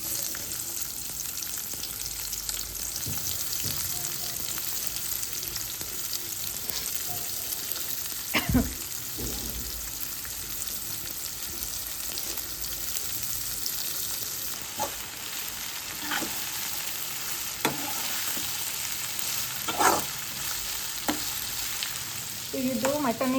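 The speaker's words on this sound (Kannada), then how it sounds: "ಇಲ್ಲಿ ಎಣ್ಣೆ ಕಾಸ್ಕೊಂಡಾರ. ಈಗ ನೆಕ್ಸ್ಟ್ ಅದು ಉಳ್ಳಾಗಡ್ಡಿ ಚಲೋ ಫ್ರೈ ಮಾಡಬೇಕು." Onions sizzle steadily in hot oil for a mutton biryani, a continuous broadband fry with occasional louder crackles and spatter bursts, heard close and alone without talk.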